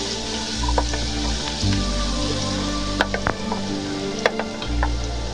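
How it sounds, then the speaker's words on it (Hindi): Paste for restaurant-style daal mash frying in hot oil, a close, steady sizzle with occasional sharp pops and spatters, no voices. "अब मैं इसमें पेस्ट को ऐड करता हूँ। और इसको हम अच्छे से हम इसको फ्राई करेंगे।"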